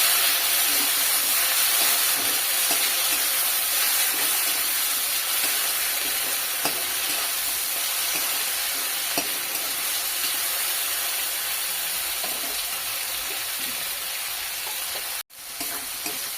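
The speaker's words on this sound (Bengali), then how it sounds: "টমেটোটাকেও কিছুক্ষণ ভেজে নেব।" Browned onion and chopped tomato fry in a pan with a steady, close sizzle and hiss that runs unbroken for the whole stretch, with a few faint stirring scrapes and a brief dropout near the end.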